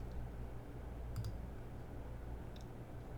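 Two quick computer mouse clicks while browsing for a staircase photo to upload, crisp and close, the first pair early and a fainter pair later, over a steady low hum.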